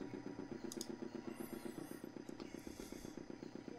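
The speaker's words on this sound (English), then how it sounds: "The motor spluttered into life." A motor in the Broken Sword 2 video game, in a temple base, splutters into life and settles into a steady, rapid mechanical chugging that runs throughout, with a few faint higher electronic tones drifting over it.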